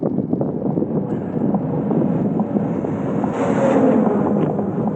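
Wind roars steadily across the microphone while a cyclist spins easily into a headwind, a constant low rushing noise that swells slightly near the end, with no talking.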